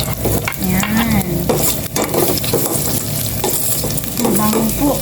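Onions sauté in a hot pan with a constant loud sizzle, broken by the scrape and clatter of stirring, while a voice speaks faintly underneath.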